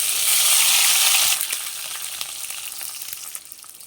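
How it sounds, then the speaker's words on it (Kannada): Sliced onions drop into hot oil with mustard seeds in a pan, setting off a loud, bright sizzle that quickly settles into a softer, steady frying crackle with small pops. "ನೆಕ್ಸ್ಟ್ 2 ಈರುಳ್ಳಿನ ಸ್ಲೈಸಾಗಿ ಕಟ್ ಮಾಡ್ಕೊಂಡು ಹಾಕ್ತಾ ಇದ್ದೀನಿ."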